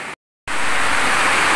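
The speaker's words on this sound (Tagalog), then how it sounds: "kung naririnig niyo sa background, napakalakas na naman ng buhos ng ulan" Heavy rain pours outside as a loud, dense, steady hiss, briefly cut to silence near the start and then returning at full strength.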